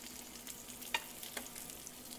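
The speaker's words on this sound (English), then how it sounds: "Now we have our veggies, the zucchini and the red pepper. They're going to saute up very nicely." Zucchini and red pepper sautéing quietly in a pan over low heat, a faint, even sizzle with a couple of soft utensil ticks, no one speaking.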